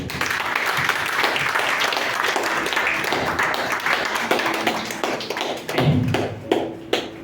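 A church congregation applauds steadily in praise after a sermon, a dense loud patter of many hands with a few louder thumps, continuing for several seconds before thinning slightly at the end.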